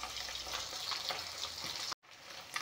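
Fish sizzles steadily in a frying pan with hot oil, crackling and spitting close by, then cuts out for a brief gap before the sizzle resumes.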